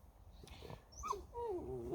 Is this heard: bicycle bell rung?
no